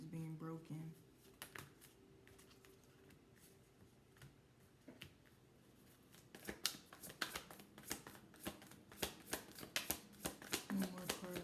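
Tarot cards are shuffled by hand in a quiet room, with faint soft rustling at first that becomes a run of crisp, rapid riffling and flicking bursts toward the end, close and fairly quiet, with no voice.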